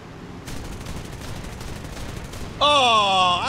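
Aircraft machine guns firing in War Thunder air realistic battles, a rapid continuous rattling burst for about two seconds, followed by a loud rising tonal whine.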